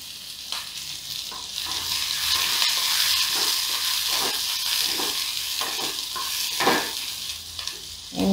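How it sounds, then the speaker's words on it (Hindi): Onion and green chilli fry over low heat in hot oil with mustard seeds, a continuous close, bright sizzle with occasional crackles and pops and no talking. "हम हल्का फ्राई होने तक के लिए छोड़ देंगे और धीमी आंच पे ही इन्हें तलने देंगे"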